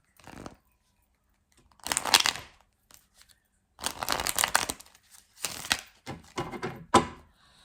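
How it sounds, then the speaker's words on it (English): A deck of cards is shuffled in several loud, crackling bursts separated by short silences, very close. "I'm about to shuffle the deck again."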